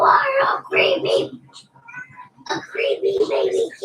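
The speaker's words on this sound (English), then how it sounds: "creepy baby kitty" A kitten gives several short, high meows in quick bursts with brief pauses between them, fairly close and clear against a quiet room.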